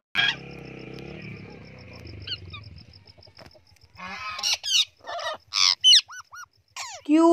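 A parrot gives a burst of sharp, squawking calls in quick succession, loud and close, following a steady tonal passage.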